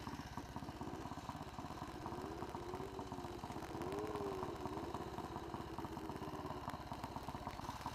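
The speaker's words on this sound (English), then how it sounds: "Steve has started his pre-war Red Panther for me" A pre-war Panther motorcycle engine, a Red Panther, runs steadily at idle with a throbbing, clattery single-cylinder beat, swelling slightly midway, heard close and continuous outdoors by a pub.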